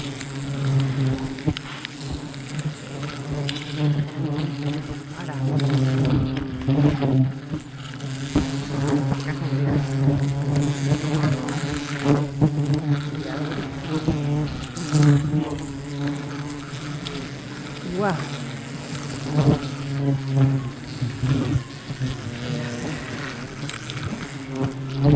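Wild bees swarming around a hive on a coconut tree, a dense continuous buzzing drone that stays steady and loud close to the microphone throughout.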